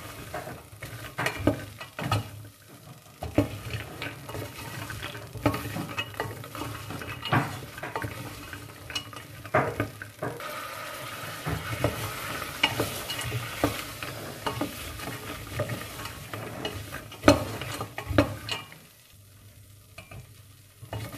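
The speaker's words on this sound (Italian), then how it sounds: "Continuate a girare per un paio di minuti circa." Sicilian cubbaita mixture is stirred in a pan with a spoon, making continuous scraping and clacking sounds over a low bubbling sizzle, close and fairly quiet, with no talking.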